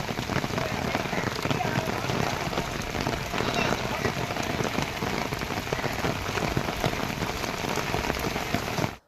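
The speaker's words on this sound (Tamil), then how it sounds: "அதிகாலை மற்றும் மாலை நேரங்களில் மிதமான மழை பெய்தது." Light rain falls in Chennai as a steady, dense hiss of drops on surfaces, continuous and even throughout with no talking.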